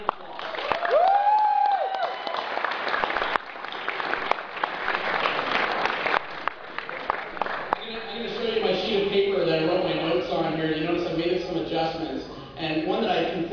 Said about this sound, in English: a round of applause for the BCC